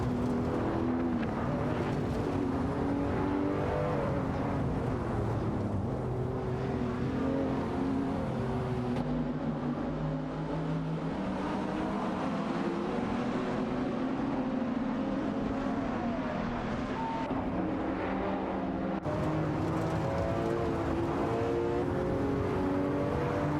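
Racing cars, including a Porsche 911 and an Aston Martin, roar steadily through a racing video game, with continuous layered engine drone and shifting revs as the cars jostle closely on track, with no pauses.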